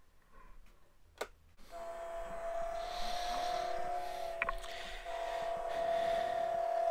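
After a click, the motor of a toy GI Joe USS Saratoga aircraft carrier starts up and runs with a steady, close, high-pitched whine and gear hum that keeps going to the end.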